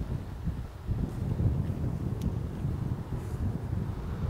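Strong wind gusting across an outdoor disc golf course, a steady low roar and buffeting against the microphone, with no speech.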